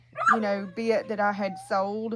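A dog outside whimpers and cries in several drawn-out, wavering yelps, fairly close, while someone talks over it.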